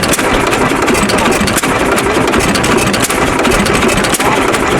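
A hit-and-miss engine chugs loudly up close, a rapid steady run of thumping beats with an occasional brief skipped stroke.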